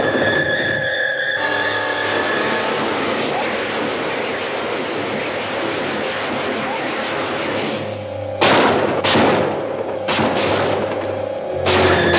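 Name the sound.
artillery fire in a 1956 sci-fi film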